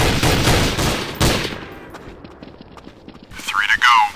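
Rifle shots in Counter-Strike: Source, a cluster of sharp reports early on fading into quiet, with a voice speaking near the end.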